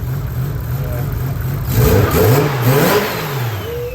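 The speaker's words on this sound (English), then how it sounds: "Also got the street muffler on, so that sounds a bit nicer." An RB25 car engine with a street muffler idles with a throaty exhaust, then revs up a few times in quick bursts before settling back, close and fairly loud.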